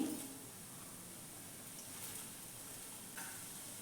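Dry coconut, almonds and cumin fry in hot oil, giving a soft steady sizzle and hiss with a few faint stirring scrapes, quiet throughout.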